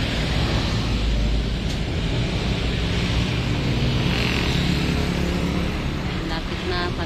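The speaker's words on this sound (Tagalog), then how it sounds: "Maraming sasakyan dito dumadaan." Steady roar of heavy road traffic with many vehicles streaming past, constant engine rumble and tire noise close by with no gaps, while someone stands waiting in a queue beside the road.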